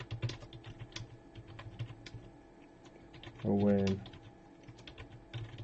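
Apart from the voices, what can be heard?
typing on a computer keyboard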